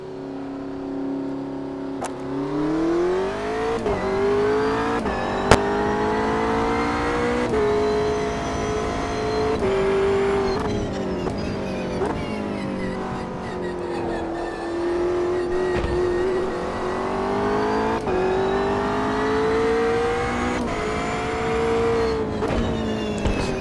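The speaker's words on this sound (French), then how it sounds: "Allez, c'est parti avec la McLaren." A McLaren race car on the Bugatti circuit in the Automobilista 2 racing game, its engine droning steadily and loud throughout, with the pitch rising through the gears and dropping on braking, and no talk.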